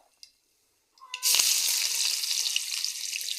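Onion drops into hot oil already holding cumin, set off by a couple of small clicks, then bursts into a loud, bright, close sizzle that holds steady to the end, with no talk.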